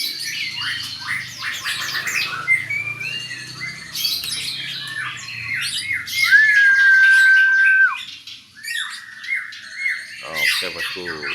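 Birds in an aviary squawk and chirp continuously, with harsh calls layered over tweets and one sustained whistle-like note, plus a brief rustle near the end.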